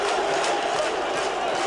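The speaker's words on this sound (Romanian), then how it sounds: "Gol de kilogramă, aplaudat frenetic de întreg stadionul" Stadium crowd roaring after a goal at a Jiul Petroșani match against Foresta Suceava, a dense, sustained wash of cheering voices at steady loudness throughout, with no single voice standing out.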